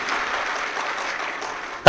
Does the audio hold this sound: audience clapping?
yes